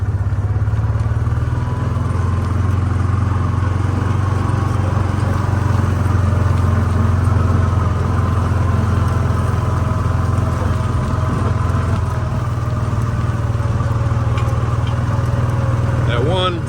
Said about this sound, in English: Get on my buggy here.